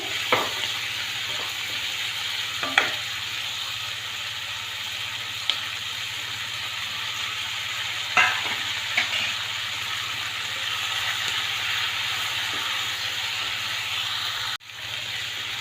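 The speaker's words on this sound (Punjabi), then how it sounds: "ਆਪਾਂ ਹਲਾਉਂਦੇ ਰਹਿਣਾ ਥੋੜਾ ਥੋੜਾ ਕਰਕੇ ਸੇਕ ਦੇ ਉੱਪਰ ਹੁਣ ਪਾਵਾਂਗੇ ਆਪਾਂ ਇਹਦੇ ਵਿੱਚ ਸੋਇਆਬੀਨ ਦੀਆਂ ਬੜੀਆਂ" Soya chunks sizzle and fry in a pan on the stove for a soya chilli paneer dish, a steady hiss throughout with a few stirring knocks and scrapes, close and fairly loud, no voices.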